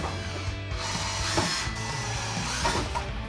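Pocket hole screws, 2.5-inch, being driven into a wooden table runner and leg with a power driver, a steady whirring buzz running nearly continuously with slight surges, fairly close.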